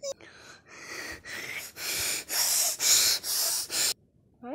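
A voice imitates snoring up close, making about seven rhythmic, raspy snorting breaths that grow louder and harsher before stopping abruptly.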